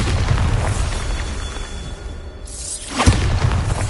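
Bombarda blasting spell going off in Hogwarts Legacy, a loud booming explosion with a rushing whoosh and debris burst that hits around the midpoint, over a busy game ambience.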